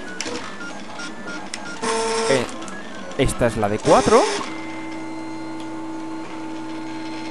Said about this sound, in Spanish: Fijaros que al fondo tengo la impresora funcionando